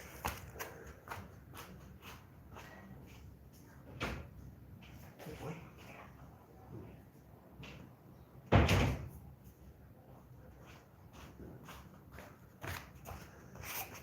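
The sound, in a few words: door being opened to let a cat out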